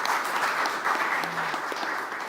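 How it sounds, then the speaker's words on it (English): Audience applause for the panelists at a climate migration and human rights panel, a dense, even patter of clapping from a sizable crowd at moderate level that fades slightly toward the end. "Please join me in giving our panelists a round of applause."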